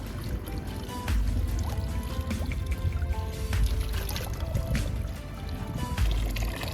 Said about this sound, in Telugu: అక్కడి నుంచి డైరెక్ట్ పైప్లోంచి ఇలా వస్తుంది న్యాచురల్ హిమాలయన్ వాటర్